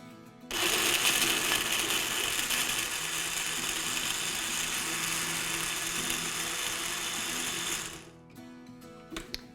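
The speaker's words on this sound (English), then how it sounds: "And now let's blend this all together." A blender whirs steadily for about seven seconds, blending pineapple, mango, banana and coconut water into a smoothie, then cuts off, loud and close with no talking.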